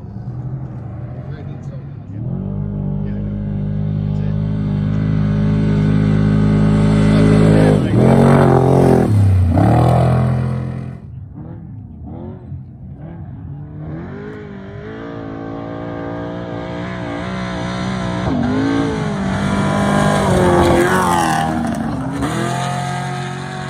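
Trophy trucks roar past at the Laughlin Desert Classic 2020 desert race, engines loud and revving as they approach, rushing by, then rising again, with people talking over the noise.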